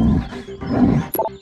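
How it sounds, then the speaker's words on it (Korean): Cartoon lion roar from a children's animal-name cartoon, one loud, close, rumbling roar lasting about a second, followed by a short bright effect. "사자"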